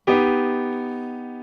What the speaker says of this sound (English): For some people, it sounds just like an augmented chord,